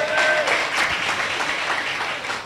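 A church congregation applauds and cheers for the Lord in a loud, dense wash of clapping that stays strong throughout and fades slightly at the end, with no clear speech.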